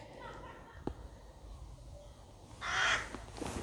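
Crows caw in a quiet churchyard, a few scattered calls that end in one louder, harsher burst of cawing near the end, over soft outdoor ambience.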